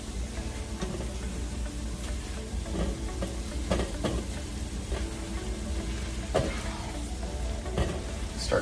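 Potatoes sizzling in a pan with their juices as they are stirred, a steady frying hiss broken by scattered clicks and scrapes of the utensil, close and moderately quiet.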